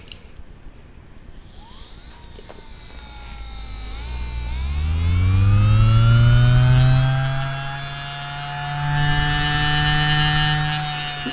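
Electric motor spinning up a heavy lathe-turned mass, its whine rising steadily in pitch and loudness into a strong humming drone that swells, dips slightly and then holds at speed.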